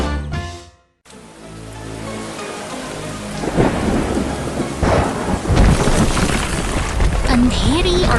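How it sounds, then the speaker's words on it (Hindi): Heavy rain pours steadily on a dark stormy night while loud rumbling thunder rolls in and swells, close and continuous after a brief silent gap near the start. "अंधेरी और तूफानी रात में प्रकृति ने अपना रौद्र रूप दिखाया है।"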